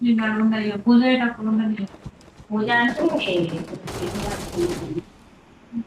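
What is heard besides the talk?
gunfire in a squad shooting video game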